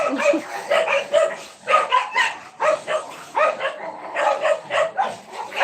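Several dogs fight and bark in rapid, repeated bursts, loud and close, with yelps and snarling between barks, going on without pause and no talk.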